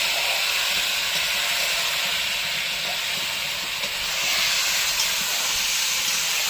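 Duck meat goes into a hot pan with onions and bay leaf for a Bengali duck curry and sizzles in a loud, steady hiss that carries on without a break.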